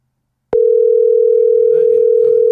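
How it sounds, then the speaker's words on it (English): A telephone ringback tone sounds while calling Joe, one long steady two-second ring, loud and clean, with faint background murmur beneath. "Let's see if we can get Joe on the phone."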